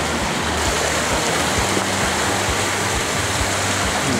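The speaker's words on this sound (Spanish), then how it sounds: "se escucha mucho ruido que anda por aquí el río" A river rushing through a forest near a waterfall at Amecameca, a loud, constant roar of water filling the whole scene, with light handling bumps underneath.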